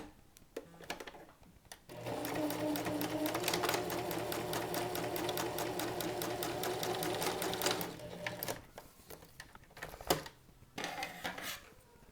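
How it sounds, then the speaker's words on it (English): Sewing machine stitching the fabric of a maxi skirt, running in one steady, close burst of rapid mechanical whirring for about six seconds, with quiet handling sounds before and a few soft clicks after. "Pull your fabric so that you're not trying to sew over the gathers."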